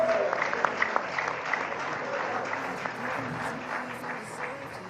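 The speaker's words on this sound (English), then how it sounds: "He deserves another round of applause." Audience applause at a PDP press conference held by Atiku Abubakar after the Nigerian election, a moderate wash of clapping with a few sharper individual claps near the start, and some crowd murmur mixed underneath.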